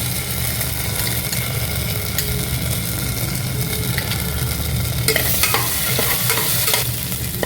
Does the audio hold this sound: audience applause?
no